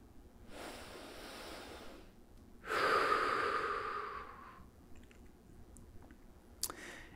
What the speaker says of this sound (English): take a breath in through the nose, out through the mouth.